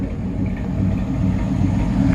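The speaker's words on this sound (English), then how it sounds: "Nice sounding exhaust there." A 1947 Ford truck idling through its exhaust, a low, smooth, steady rumble close by that swells slightly toward the end.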